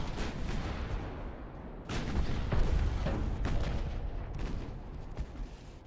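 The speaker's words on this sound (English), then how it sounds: "Fire the guns! Secondaries! All of them!" Naval guns and secondary batteries from a USA campaign warship in a naval combat game pound out a dense, continuous barrage of booming shots, with louder blasts clustering near the middle and rolling on to the end.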